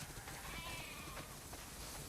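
Sheep bleating in The Last of Us Part II, a faint wavering bleat rising briefly over a steady, dense outdoor game ambience with no voices.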